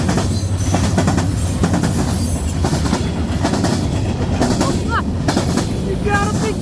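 A CN SD75IACC rebuilt locomotive with its train rolls past at Ladysmith, Wisconsin, a continuous loud rumble with rhythmic wheel clatter and brief high squeals near the end.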